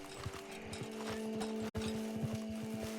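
Horse hooves clip-clop steadily at a walking rhythm in a video game, close and moderately loud over a steady musical hum, with a brief dropout midway.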